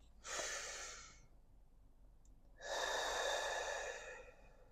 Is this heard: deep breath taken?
yes